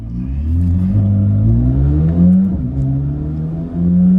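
A Corvette C8 Z06 pulls away with its engine note climbing and dipping through a short burst of acceleration, heard steadily from inside the car.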